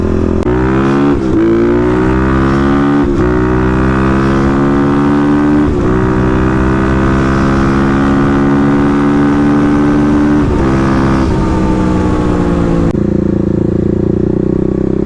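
A Kawasaki KLX351 dirt bike revs hard while riding toward a gravel road, its engine climbing and dropping through several loud, close, rising pulls with gear changes, alone without speech.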